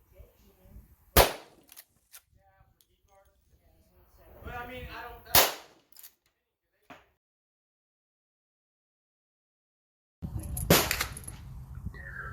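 Three loud, sharp shots from a Rossi 92 lever-action rifle firing .357 Magnum rounds ring out spaced several seconds apart, with faint handling and mechanical clicks between them and a quiet gap before the last shot.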